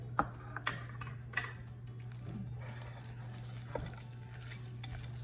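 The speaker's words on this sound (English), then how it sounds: "I'm gonna mix that in the batter" No-bake tahini cookie dough, gluten and dairy free, is stirred in a bowl, giving soft intermittent scraping and light clicks. The sound is faint and close, over a steady low electrical hum.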